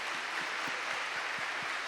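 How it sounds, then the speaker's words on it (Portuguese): Church congregation applauding, a dense continuous wash of clapping from a crowd, moderately loud and unbroken, with no voices rising above it. "Dá um aplauso para Jesus."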